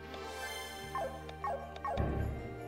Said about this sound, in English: that dog did not like the rubs